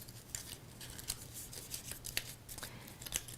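Glued paper tabs on a graduation cap box are folded over by hand, giving soft, quiet crinkles and light papery ticks in an irregular rhythm against a faint background hum.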